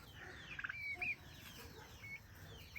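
Faint turkey calls of mixed breeds, a few short gobbling and clucking notes over low farmyard background noise.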